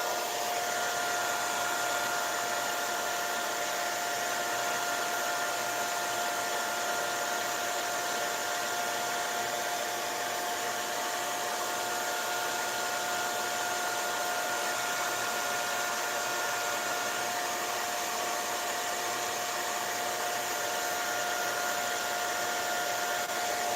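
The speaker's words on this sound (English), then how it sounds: "So I'm gonna run the dryer." A hair dryer blows steadily to dry paint on a Halloween Pikachu craft, a loud continuous whooshing whine with a constant motor tone that never changes for nearly half a minute, close and without voices.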